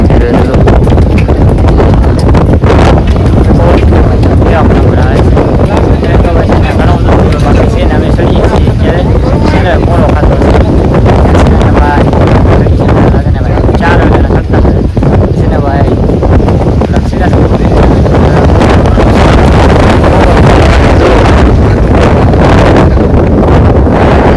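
Strong wind blows over Junagadh, a loud continuous roar and buffeting against the microphone that fills the whole stretch, with voices partly buried beneath it.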